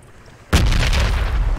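A frag grenade goes off in a bunker-fighting video game: one sudden loud boom after near silence, followed by a sustained rumbling, debris-filled roar that stays loud to the end.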